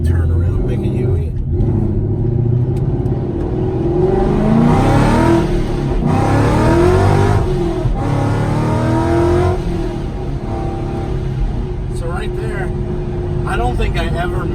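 A Ford S550 Mustang engine accelerating at about half throttle, a steady rising rumble heard from inside the car with upward pitch sweeps as it pulls through gears, while someone talks over it.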